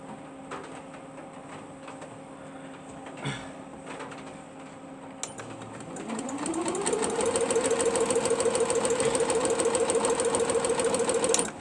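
Sewing machine stitching quilt pieces: a quiet idle hum at first, then the motor ramps up after about six seconds into a steady, loud, fast needle rattle that runs on to the end.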